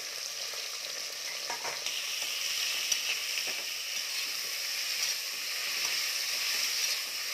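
Green chillies sauté in hot fat for ghee rice, a steady close sizzle with occasional stirring scrapes running throughout, no voices.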